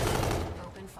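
Rapid automatic gunfire bursts loudly in a Call of Duty: Infinite Warfare battle, close dense shots that thin out toward the end.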